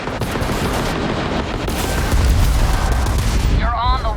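Starship weapons firing in Starfield during a space fight with a Freestar guard ship, a loud, continuous rumbling barrage of shots and blasts, with a voice near the end.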